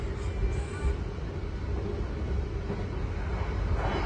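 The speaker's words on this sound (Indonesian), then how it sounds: "kereta api Brawijaya sudah tiba di stasiun Nganjuk" The KA Brawijaya passenger train, an executive New Image set, pulls into Nganjuk station in the evening, heard as a steady, loud low rumble from on board with no talk.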